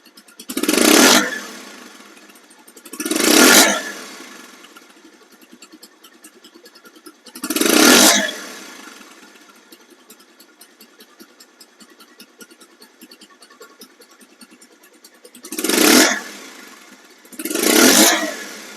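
Bursts of a 2021 Bajaj Pulsar single-disc motorcycle engine revving, five sharp throttle blips spaced a few seconds apart, loud and close, with a steady idle murmuring between them.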